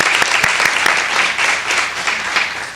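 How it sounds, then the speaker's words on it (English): Audience applause at a charity giving event, a steady wash of clapping hands that stays loud and dense throughout, with no voices over it. "I think you can all give yourself a hand of applause"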